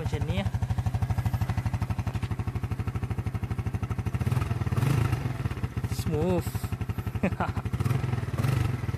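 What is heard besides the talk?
SYM Sport Rider 125i motorcycle engine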